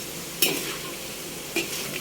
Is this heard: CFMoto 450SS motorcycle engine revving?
no